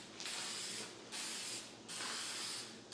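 Aerosol of clear lacquer sprayed onto a painted wooden chair in three steady hissing bursts with short gaps between, close and fairly quiet.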